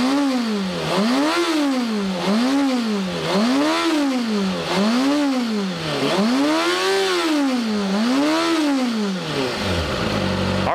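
A 2013 Kawasaki Ninja 636 ZX-6R's inline engine runs close up, blipped repeatedly in rising and falling revs, about six swells over ten seconds, loud and steady with no talk.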